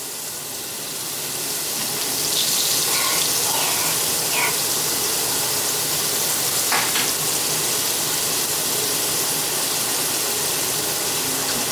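Onions frying in turkey grease in a pan for a Thanksgiving dinner, a steady broadband sizzle filling the clip from about two seconds on, close and even, with a few faint utensil clinks and no talking.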